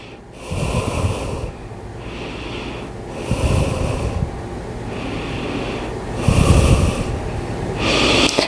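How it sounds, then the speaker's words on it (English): Deep, rhythmic breaths drawn and released during a hot fusion yoga class, several slow inhale-exhale cycles with airy hissing exhalations, fairly close and steady, no talking. "Take a breath."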